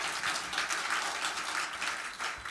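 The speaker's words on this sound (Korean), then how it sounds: "박수 부탁드립니다." Steady, even applause fills a concert hall as an audience claps at the opening of a spring peace concert at Suncheon Bay, continuing throughout the short clip with no pause.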